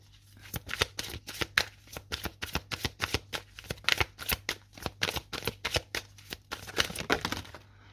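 Tarot cards are shuffled by hand in a quick, steady series of crisp riffling flutters, close and fairly quiet, with no talk over them.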